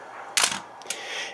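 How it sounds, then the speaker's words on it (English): A film camera's shutter release fires with a sharp mechanical click followed by a second, lighter snap a half-second later, close and clear against a quiet room. "hitting the shutter release button activates the shutter"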